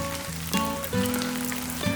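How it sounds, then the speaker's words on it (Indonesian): Rain patters steadily on a mountain trail on Gunung Salak in the wet season, a close, dense hiss of drops with a few sharper taps. "Hujan ya."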